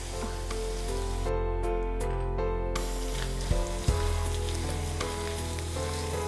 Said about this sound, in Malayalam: ഇതെല്ലാം ഈ എണ്ണയിലാണ് വറുക്കുന്നത്